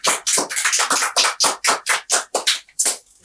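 A studio audience claps for a guest, a run of loud, close, rhythmic handclaps that stop near the end.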